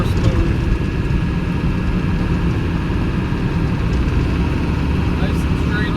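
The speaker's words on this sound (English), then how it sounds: "So I am still in fourth gear, accelerating uphill." A steady, loud low engine drone fills the cabin of a 1992 Land Rover Defender 110 200Tdi as it accelerates uphill in fourth gear at about 35 mph. A faint rattle comes from the rear windows, and someone talks over the noise.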